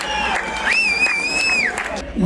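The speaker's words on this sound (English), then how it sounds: "how about a big round of applause for everyone who has performed so far?" An audience at a live variety show applauds and cheers, with a long, loud whistle rising over the clapping and crowd noise.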